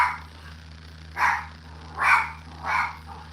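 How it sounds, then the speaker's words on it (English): A dog indoors at home gives three separate barks, spaced about a second apart, against a quiet room with a low steady hum. "Lily, somebody better be walking up on that porch while you doing all that barking."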